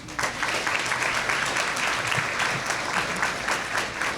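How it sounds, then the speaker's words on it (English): Audience applause at a county Teacher of the Year ceremony, a steady wash of many hands clapping that carries evenly through the whole stretch without voices over it. "So a round of applause to all of you."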